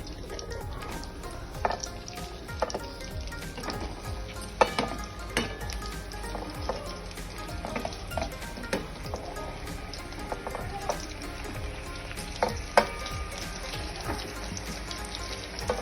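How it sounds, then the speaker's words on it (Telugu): Eggplants frying in hot oil for a stuffed eggplant curry, a steady soft crackling sizzle with scattered sharper pops and occasional clinks, running throughout without talk. "ఇప్పుడు కాగిన నూనెలో వంకాయల్ని మొత్తం అన్ని వేసేసుకోవాలండి."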